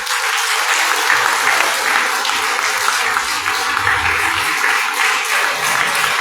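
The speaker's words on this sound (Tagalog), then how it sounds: "Yung malakas na palakpak para sa ating nagpapagligtas sa ating Panginoon" Congregation at a live worship service applauding loudly, a thick, continuous roar of clapping that holds steady throughout without a break.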